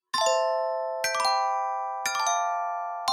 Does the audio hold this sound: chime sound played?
yes